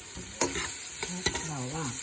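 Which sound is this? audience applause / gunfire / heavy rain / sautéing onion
sautéing onion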